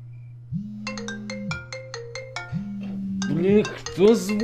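A phone ringtone for an incoming call plays loud and close: a repeating electronic melody of short tonal notes over a steady hum, with a brief voice near the end.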